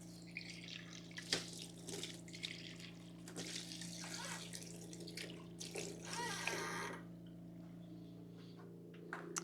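Water runs from a kitchen tap in a home kitchen during candy-making, a faint steady stream with light splashes and clinks, under a low constant hum.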